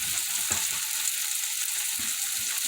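Bacon frying in a pan alongside bologna, a constant bright sizzle and crackle close up with a few soft stirring knocks, no voices.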